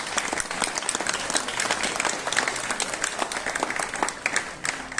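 Steady audience applause at an outdoor poetry evening in San Nicola di Ardore, continuous even clapping from a crowd held at a moderate level throughout.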